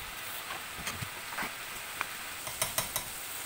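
Pork, carrot and cabbage stir-fried in a little salad oil make a continuous soft sizzle with irregular scraping and tapping from the stirring, growing a bit busier toward the end.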